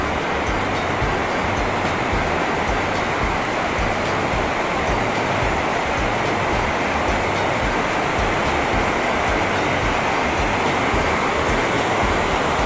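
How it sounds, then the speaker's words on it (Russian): A Himalayan waterfall at Vishnuprayag, India, roars as a steady, dense wash of falling water, loud and close, continuous throughout with no voices. "А вот этот водопад."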